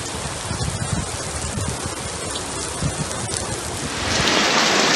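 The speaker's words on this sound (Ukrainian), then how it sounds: "Напарило, напарило, а тепер ось виливається дощем." Heavy rain pours down in rural France during a solo bicycle trip, heard from shelter under a roof as a dense steady hiss and patter that swells louder toward the end, with no talking.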